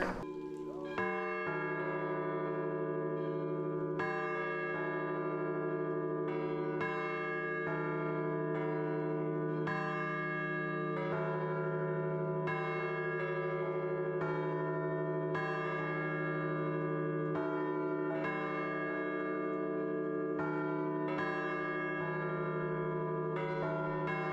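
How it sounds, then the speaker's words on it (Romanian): Church bells ring for the litia at Tanacu Monastery, struck in a steady, continuous pattern of overlapping rich tones that sound loud and sustained throughout. "Mergem acum să vedem clopotele cum sunt bătute iarăși pentru litie."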